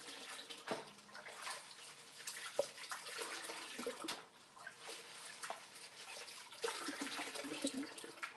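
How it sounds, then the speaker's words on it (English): Running water from a tap rinses material off, a soft, steady splashing stream with small spikes and shifts as the material is moved under the flow, faint and close with no talk. "I'm just rinsing this material off."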